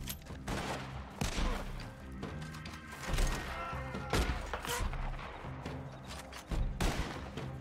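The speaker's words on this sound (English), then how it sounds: "Damn, there's a lot of shooting, though, eh?" Gunfire in the Western online game Red Dead Online, dense and continuous shots and volleys cracking in rapid overlapping bursts, loud and busy throughout, with no talking.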